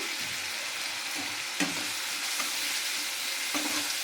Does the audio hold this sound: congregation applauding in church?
no